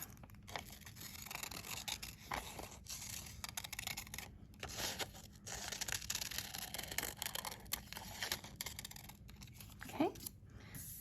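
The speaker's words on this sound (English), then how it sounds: "then again with my scissors, I'm going to carefully cut those 2 circles out." Scissors cut carefully around two circles drawn on paper for a pumpkin face craft, giving soft, repeated snipping and paper rustle at close range with a steady background hum.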